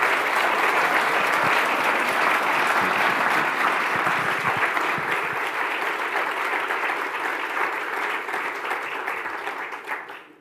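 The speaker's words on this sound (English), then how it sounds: "can we give a big round of applause to the other nine who have done a superb job?" A large audience at a central banking forum's young economist prize ceremony applauds the winners in a full, continuous roar of clapping that holds steady, then thins and fades out at the end.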